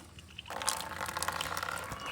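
Water running into a container for bathing, starting half a second in as a steady rushing, splashing fill that continues to the end.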